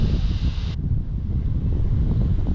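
Wind buffets the microphone outdoors while fishing in extreme heat, a steady low rumble that stays loud from start to finish, with a high hiss in the first moment only.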